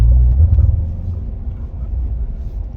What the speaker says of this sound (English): I do want to hit this downshift because I like the way that rev match sounds.